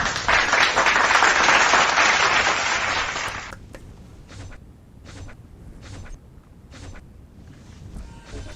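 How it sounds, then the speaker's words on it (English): Dense applause from a crowd for about three seconds, then it thins to a few scattered claps and soft thuds. "Let's give everyone in the chat a big applause"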